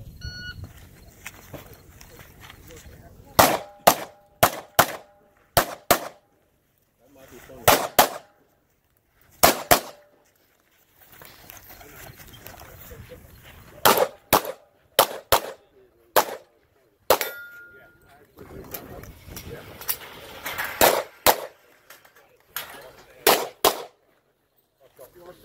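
Pistol shots ring out at a USPSA match stage at Pinetucky, fired in quick irregular strings of sharp cracks with pauses between groups, and faint voices are heard in the gaps.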